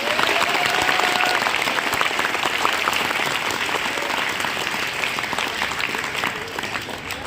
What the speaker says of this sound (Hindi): खुद के लिए ताली बजाओ जोरदार